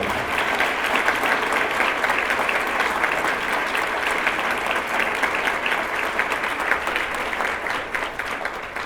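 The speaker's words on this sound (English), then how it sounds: "One more round of applause." Applause from a banquet audience at a Teacher of the Year event fills the room steadily and loudly throughout, a dense wash of many hands clapping with no pause.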